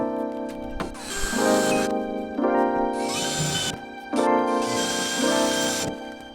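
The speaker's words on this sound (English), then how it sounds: "this will act as a guide hole for the bigger drill bit." A power drill bores a guide hole through a van's steel body, motor whining in repeated bursts of a second or two with brief pauses between, loud and close, with gritty grinding as the bit bites the metal.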